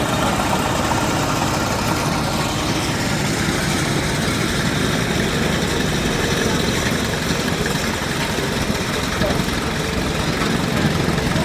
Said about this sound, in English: 1915 Bray tractor.